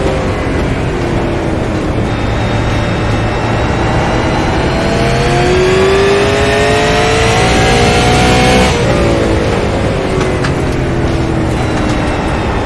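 Race car engine in iRacing revving loud and steady on an onboard lap, pitch climbing and dropping through gear changes with a sharp shift near the end.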